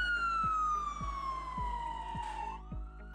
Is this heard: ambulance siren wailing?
yes